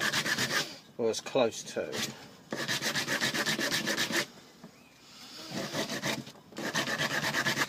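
An old axe is sanded with P120 grit sandpaper in bursts of fast back-and-forth rasping strokes separated by short pauses, with a brief spoken phrase in one gap.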